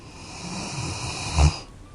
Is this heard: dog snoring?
yes